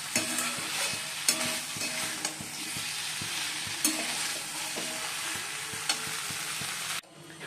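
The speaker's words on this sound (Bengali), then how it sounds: "ফুলকপিগুলো দিয়ে দিলাম, ভালো করে কষিয়ে অল্প করে জল দিয়ে দেবো" Cauliflower florets stir-fried in a pan with spice, a steady bright sizzle broken by repeated rhythmic scrapes and knocks of a spatula, close and fairly loud, ending abruptly.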